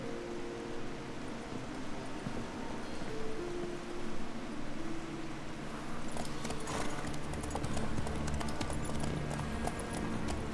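Rhythmic horse hoofbeats clip-clopping at a steady walking pace in The Witcher 3: Wild Hunt, over an ambient background, with faint rustling and music-like tones partway through.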